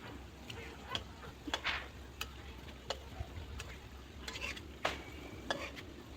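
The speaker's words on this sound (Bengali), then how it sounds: "এবার মিষ্টিগুলো আমি ব্রাউন কালার করে ভেজে নেব" Sweets frying in hot oil until browned, a quiet steady sizzle with scattered ticks and clinks of a spatula turning them in the pan, close and fairly soft with no talking.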